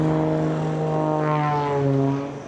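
A modified aerobatic airshow plane at EAA AirVenture drones steadily overhead with a loud, even propeller-engine hum whose pitch shifts as it manoeuvres, then fades slightly at the end.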